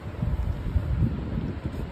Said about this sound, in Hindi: मस्त हवा चल रही है बाहर